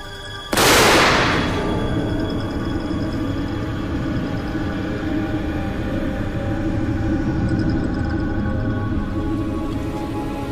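A single sharp blast bursts out from a dynamite test explosion in front of a wall and building, followed by a long, dense rumbling roar that lingers steadily for several seconds.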